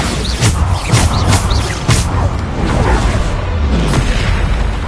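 Bombarda spell blasts in the Hogwarts Legacy video game: several loud booming impacts in quick succession with crackling debris, close and heavy against a dense background of game noise.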